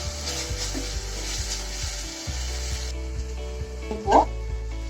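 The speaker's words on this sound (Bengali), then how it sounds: "আদা আর রসুনের যেন কাঁচা গন্ধটা না থাকে সেইভাবে আমি ভালো মতন একটু কষে নেব মশলাটাকে" A constant sizzle of ginger, garlic and onion paste frying in a pan, with occasional scraping stirs and a clink near the end.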